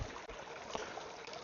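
Creek water scooped into a bottle and shaken, giving a steady close watery slosh and splash throughout with a brief louder swirl midway.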